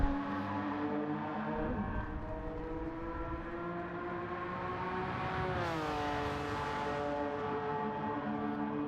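A race car engine drones steadily through a time trial lap on a road course, its pitch holding then dipping and climbing again as it works through the S-curves onto the long straightaway.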